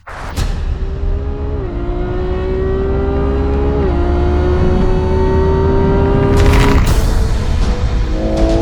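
A Ferrari Purosangue SUV engine revs hard and climbs through its gears at 140 to 150, with shifts breaking the rising whine, loud and close, ending in a rush of wind and road noise.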